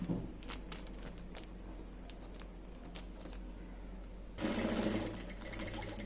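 A sewing machine stitching a fabric phone cover, running in a fast steady whir with small ticking clicks, then growing louder and rougher for the final stretch, close and without talk.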